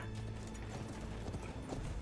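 Horse hooves clopping in the Conqueror's Blade game during a siege at Kurak Castle, a steady run of hoofbeats beneath a continuous dense din of battle noise.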